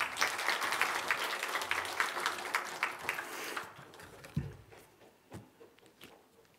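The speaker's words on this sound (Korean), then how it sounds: "박수로 우리 환영해 주십시오." Church congregation breaks into applause to welcome a member coming up to speak, a dense burst of clapping for about three and a half seconds that then thins to a few scattered claps and light rustle.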